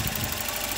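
A 25-year-old Volvo B230 engine with 140,000 miles idles evenly in a short burst, a close, steady mechanical hum with faint knocking texture and no voices.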